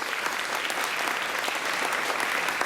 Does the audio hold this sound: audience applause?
yes